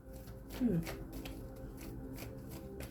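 Soft papery shuffling of cards, steady and close, with a quiet voice talking underneath.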